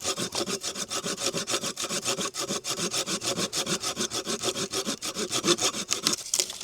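A Silky Gomboy Kuro hand saw cuts through wood in fast, even push-pull strokes. The rasping rhythm repeats close to the microphone and stays steady for the whole stretch, with no talking.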